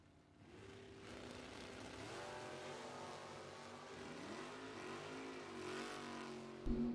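Door cars launching at a bracket drag race, with loud, sustained engine roar rising in pitch as they rev and accelerate away, ending in a sharp burst.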